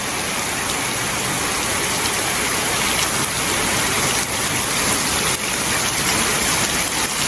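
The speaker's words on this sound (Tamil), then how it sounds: "இங்கே பாருங்க இப்படி மழை பெய்யுது இங்கே" Heavy rain pours steadily in Jaffna, a dense, loud, unbroken hiss of drops hitting surfaces, with no voices.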